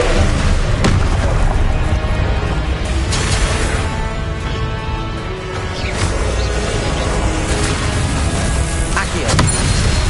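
Confringo fire spell explosions in Hogwarts Legacy combat, loud repeated booms and bursts over a dense, continuous battle roar.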